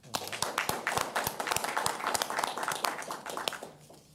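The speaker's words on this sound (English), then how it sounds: "So we'll just clap since he ain't here" An audience at a city commission meeting applauds, a dense burst of many hands clapping that holds steady for several seconds before fading out.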